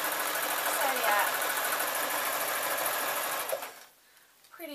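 A sewing machine runs steadily while sewing a maxi dress, its motor a continuous close whir for several seconds before stopping abruptly, followed by near quiet.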